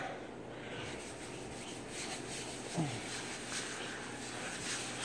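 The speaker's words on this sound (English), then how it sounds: "I'm just going to rub it in." Turbo Maxx degreaser rubbed by hand into old oiled wood in a kitchen, making a soft, continuous, close scrubbing and rubbing texture with a brief faint voice partway through.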